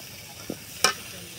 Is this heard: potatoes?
yes